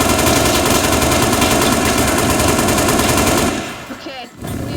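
Sustained automatic gunfire from a gun in the video game Teardown rattles loud and dense for about three and a half seconds, then cuts off, leaving quieter game sounds.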